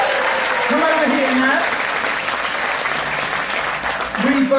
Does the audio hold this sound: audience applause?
yes